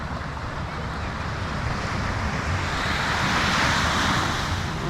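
Ocean surf rolls onto Praia do Camilo beach in Lagos, Algarve, a steady broadband wash of breaking waves mixed with wind rush that swells slightly toward the end, with no voices.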